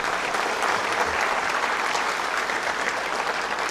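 Steady, dense applause from a large audience at a SemiconIndia Future Design roadshow event at IISc Bangalore, continuous and loud throughout with no talk over it.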